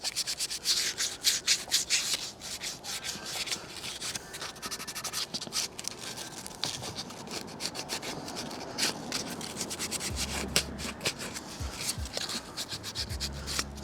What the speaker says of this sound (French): c'est bien d'arriver avec un petit sablé puis venir poncer